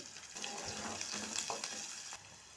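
Green bitter gourds and green chillies, with onions, salt and turmeric, fry in an oiled pan. A soft, close sizzle is heard alone, with light scraping stirs and a few crackling spurts.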